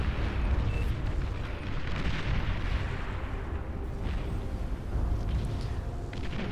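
Atomic bomber striking a lab in the strategy game Beyond All Reason, heard as a continuous heavy rumble of explosions and booming artillery, dense and loud throughout without a break.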